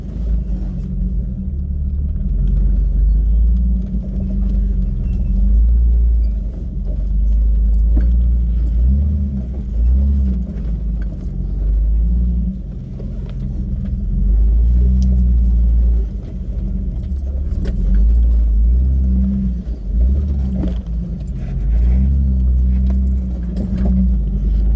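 An off-road vehicle crawls along the rugged Rubicon Trail, its engine a deep steady low rumble with swelling and easing throttle, accompanied by cabin rattles and small clinks, close and loud.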